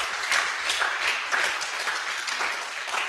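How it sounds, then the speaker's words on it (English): Audience applause after a speech at the official launch of an architects registration program, a steady, fairly close run of many hands clapping with slight swells, no talking over it. "Can we get another round of applause"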